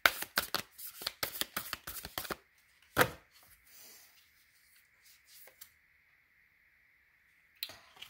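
Oracle cards are shuffled in rapid bursts of papery riffles and slaps, then one sharper snap, followed by a faint steady hum and a few soft rustles before a final card flick.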